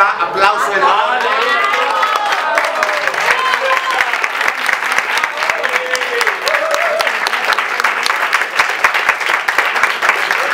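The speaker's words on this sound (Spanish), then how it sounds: "Aplauso enorme" Big applause from a theatre audience at a Teatro en Corto event, loud sustained clapping with cheers and shouting voices at the start, continuing strongly to the end.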